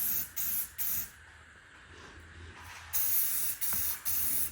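Short hissing bursts from a primer spray can dusting a guitar body, three quick sprays, a pause of about two seconds, then three more, close by and crisp.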